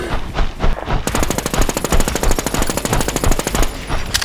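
Rapid automatic gunfire pours into a boss in the survival shooter Infestation The NewZ, a loud, dense, steady stream of shots hammering on for several seconds after a few scattered opening bursts.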